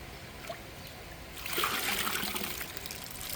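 Water gushes and splatters as a soaked car wash mitt is squeezed out, a quiet trickle swelling into a loud, sustained rush close by.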